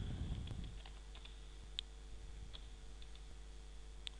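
Keyboard typing while PHP code is written: soft, irregular key clicks in short bursts over steady low room hum, close and fairly quiet.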